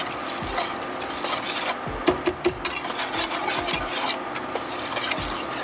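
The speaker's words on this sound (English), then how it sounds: "And just stir it up a little bit with chili powder." Chili powder stirred in a hot pan for an enchilada casserole, with loud, close scraping and rhythmic clattering of the utensil against the pan over a continuous sizzle, no talking.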